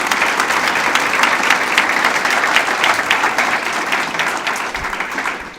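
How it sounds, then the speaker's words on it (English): A college lecture audience applauds a speaker with sustained, dense clapping at full strength throughout, loud and even, fading only slightly toward the end with no talk over it. "Another round of applause for Ashley."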